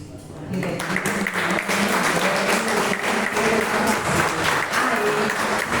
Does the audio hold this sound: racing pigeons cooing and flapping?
no